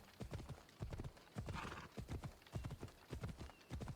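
A horse's hooves clip-clop in a steady walking rhythm in the Assassin's Creed Odyssey video game, the crisp regular beats fairly quiet and heard alone.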